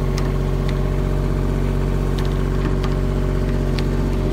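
A Bobcat E20 mini excavator engine runs steadily at a loud, close idle, with a constant low throbbing drone and a few faint clicks and knocks over it.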